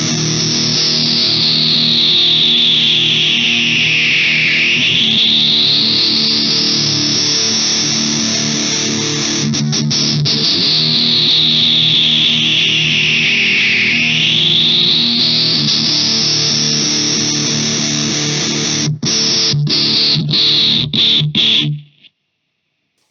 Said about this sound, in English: sounds 20 times better with the distortion on running through it